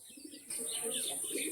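A pied Kalpetia pigeon coos softly in a short, low murmur, faint and close, with bright chirpy tones over a steady hiss.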